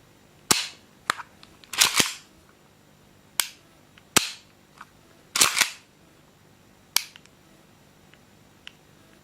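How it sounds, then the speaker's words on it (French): A double-action pistol is dry-fired and then shot, producing about eight sharp, separate cracks and clicks spaced irregularly across a quiet room, with no talking between them. "Le coup part un peu tout seul en fin de course."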